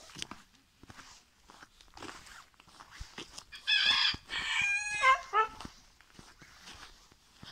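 Chickens cluck and squawk in a short burst amid quiet rustling and scattered footsteps, with one bird letting out a louder, drawn-out call partway through.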